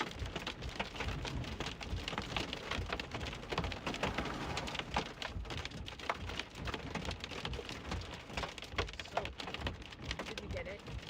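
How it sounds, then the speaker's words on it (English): Hail and rain pelt down hard during a tornado-producing storm in North Carolina, a dense continuous drumming of drops on surfaces, with faint voices underneath. "Are they still getting pelted by hail? Why does it look like they're getting more hail?"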